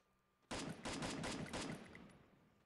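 An explosive barrel in Garena Free Fire is shot and blows up: a sudden loud blast of rapid crackling bursts that rings out and slowly fades over about two seconds.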